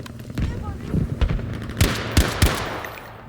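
Semi-automatic rifle fire from Battlefield V, several single shots in an irregular sequence, sharp and moderately close, over quiet game ambience with faint talk in the background.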